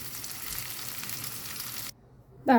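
Okra pieces sizzle in hot oil over a medium flame, a steady bright frying hiss that cuts off abruptly near the end, followed by a short sharp clink.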